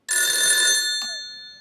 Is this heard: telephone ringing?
yes